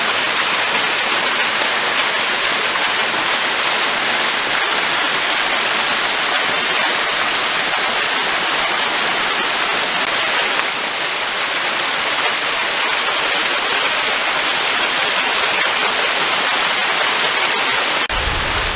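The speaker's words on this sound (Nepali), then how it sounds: "यहाँ यस्तो रोकको माथि पानी गएको।" A mountain stream pours over rocks near Tare Bhir in the Kathmandu Valley, a loud, steady broadband rush that stays close and unbroken throughout, with no voices.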